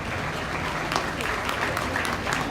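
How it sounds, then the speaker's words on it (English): Audience applause at a beef cattle show, a steady, dense clapping from a crowd that holds at an even level through the clip, with faint voices mixed underneath. "Let's give them a nice round of applause."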